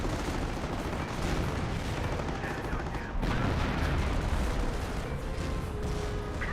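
Butterfly bombs explode in Company of Heroes amid a steady din of battle, with dull booms and scattered gunfire layered over continuous rumbling combat noise.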